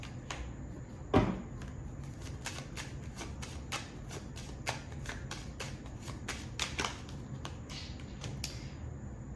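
Tarot cards handled and shuffled close up: a long series of soft, quick card flicks and taps at an uneven pace, with one louder knock early on, over a faint room hum.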